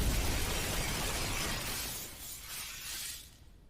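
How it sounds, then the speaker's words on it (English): A glass window shattering as something smashes through a shop's front door, a loud, dense burst of breaking glass that crashes and fades over a few seconds. "a green and gold blur smashes through the front door's window"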